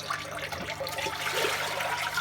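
Water trickles steadily out of a washing machine during its final rinse, a continuous soft flowing and dribbling sound heard close by and alone, with no talking.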